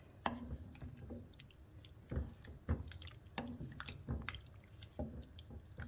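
Spoon stirring cream into soup in a pot, heard as soft, wet sloshing and squelching with light taps, quiet and close.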